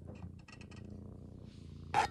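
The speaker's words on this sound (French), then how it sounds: "c'est que ça ronronne" A cat purrs close up, a faint low rhythmic rumble with soft pulsing bursts, ending in a brief louder noise, with no talk.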